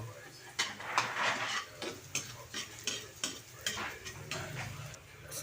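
Garlic sizzling in a pan as the first step of sinigang sa miso with milkfish, with a utensil scraping and stirring in repeated strokes, close and moderately loud, while someone talks over the cooking.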